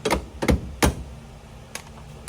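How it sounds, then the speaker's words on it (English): Metal hammer blows knocking worn hinge pins out of a truck door, three sharp strikes close together early on, then a lighter tap after a pause, close and fairly loud. "We are currently trying to get the door pins out so that way we can replace them"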